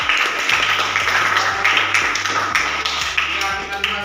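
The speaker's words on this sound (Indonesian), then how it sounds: "Tepuk tangan untuk kalian." A class claps for student groups after they present their classroom agreements, a dense, steady patter of many hands that goes on throughout, with a low rhythmic hum underneath.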